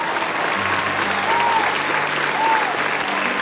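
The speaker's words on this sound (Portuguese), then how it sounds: "Palmas para o Nicolas" Sustained audience applause, thick and even, sounds for a few seconds at a steady strong level. A couple of faint tonal whistles float above the clapping, and no one speaks.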